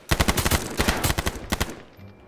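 Rapid bursts of automatic gunfire in the battle royale game H1Z1, loud and close, with shots rattling in quick uneven clusters before ending in a quieter tail.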